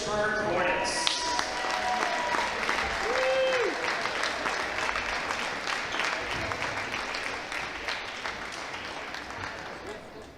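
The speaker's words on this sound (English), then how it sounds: "let's get one final round of applause for your Lynchburg" Basketball crowd applause for Lynchburg at a men's game against Virginia Wesleyan, sustained clapping throughout while an announcer's amplified voice and a brief electronic tone sound over it near the start.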